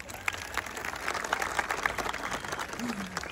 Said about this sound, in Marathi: सगळ्यांनी जोरदार टाळ्या वाजवा।